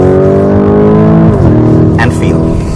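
Lamborghini Urus engine at steady loud revs on a race track, with a tonal drone that dips as it downshifts gears midway, close and continuous inside the cabin, with a person talking over it.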